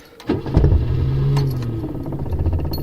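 Ford Escort engine cranking and catching, then settling into a steady idle close by, with a brief jingle of keys at the start.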